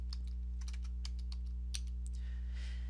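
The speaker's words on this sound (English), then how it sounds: "Maybe I would start typing the word recipe." A computer keyboard clicks through a short burst of irregular keystrokes while a word is typed, close and clear above a steady low electrical hum.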